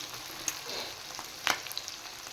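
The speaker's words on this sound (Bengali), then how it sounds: "এই পেঁয়াজগুলো ভেজে নিচ্ছি।" Onions frying in a pan give off a soft, close sizzle with a few sharper crackles and stirring scrapes, fairly quiet and without talk.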